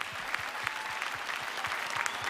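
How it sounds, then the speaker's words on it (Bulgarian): A theater audience applauds a variety show act in a televised singing contest, steady dense clapping with some rhythmic beats underneath, moderately loud throughout. "Аплодисменти за вариететен спектакъл Булевард"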